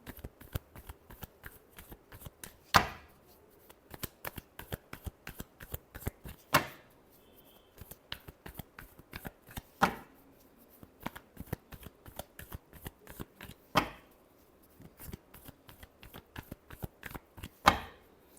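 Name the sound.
shuffling tarot cards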